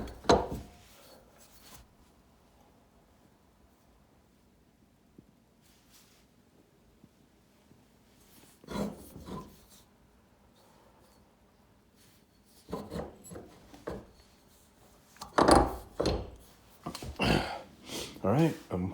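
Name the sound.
sanding grind lines off lawnmower blade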